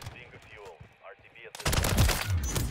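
Automatic fire from a Raal MG in Call of Duty: Modern Warfare III breaks out after a stretch of talking, a loud, rapid, sustained burst of gunshots that keeps rattling to the end.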